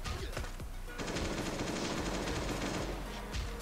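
AK rifle in the Last Day on Earth survival video game: a rapid automatic burst of loud gunshots lasting about two seconds, close and sharp, with single shots before and after.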